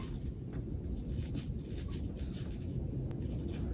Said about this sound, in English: But that's the wind. Because we have a lot of trees in New England.